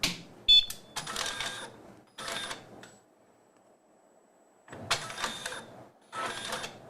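A printer powering on after a pump replacement whirs and clicks in several short mechanical bursts, separated by a quiet stretch of faint motor hum, all heard close and without any talk.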